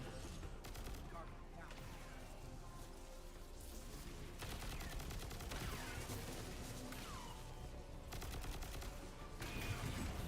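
Rapid gunfire from the video game Destiny 2 rattles in dense bursts and volleys, near and steady throughout, with brief sharp impacts layered over a busy game soundscape.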